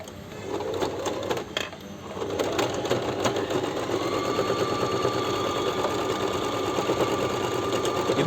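A Singer Start 1304 domestic sewing machine runs in reverse stitch, its fast steady needle chatter continuous and close for several seconds, with a brief pause near the start before the motor picks up again.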